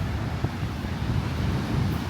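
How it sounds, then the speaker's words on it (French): Rough, choppy sea off the coast of Crete whipped by wind, a steady close roar of surf and gusts blowing across the microphone without pause, with no voices. "la mer elle est un peu agitée, hein?"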